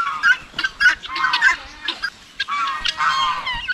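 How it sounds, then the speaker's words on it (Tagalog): Geese honking on a Philippine backyard farm kept with chickens, turkeys and ducks, a run of loud, close, nasal calls in irregular bursts, some overlapping, with a few fainter bird sounds between. "Pumunta dito yung gansa, oh."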